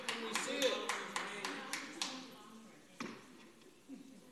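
Audience applause at a city council meeting, a short run of scattered hand claps that thins out and fades, with people talking over it.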